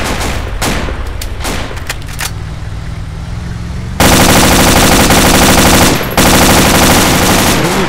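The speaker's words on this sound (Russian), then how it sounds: "Тут он стрелял, вылезай." Heavy gunfire from an airsoft or mock battle at Tushino: sharp shots cracking out over a running engine, then a sudden, very loud, continuous stream of rapid automatic fire that barely breaks.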